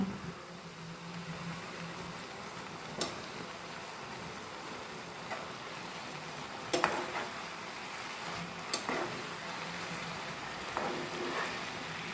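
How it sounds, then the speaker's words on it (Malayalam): Food with Maggi noodles and vegetables being stirred in a frying pan: a steady soft sizzle throughout, with a few sharp scrapes and clinks of the utensil against the pan at irregular intervals, no talking. "ഇനിയിപ്പോൾ നമുക്കൊന്ന് ഇളക്കി കൊടുക്കാം"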